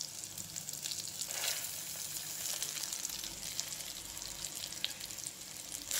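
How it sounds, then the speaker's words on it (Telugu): Toor dal frying in a pan over medium flame, a steady soft sizzle and crackle with faint stirring scrapes throughout, close and fairly quiet. "లైట్గా కొంచెం మీడియం ఫ్లేమ్లో పెట్టుకొని మరీ ఎక్కువ మాడిపోకుండా వేయించాలి"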